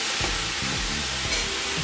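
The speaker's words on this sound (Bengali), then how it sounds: "দিয়ে এটাকে ভালো মতো করে নাড়াচাড়া করে দিব।" Fish with vegetables, turmeric and salt frying in a pan while being stirred, a constant loud sizzle with several short scraping knocks from the spatula, close up.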